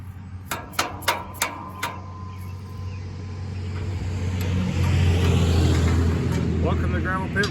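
Several sharp knocks open the clip, then vehicles build into a rising, rumbling pass along a two-lane rural road at rush hour, swelling loud and fading slightly as they go by.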